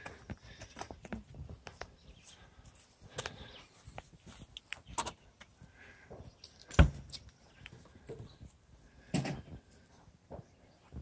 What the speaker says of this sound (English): Close your other door.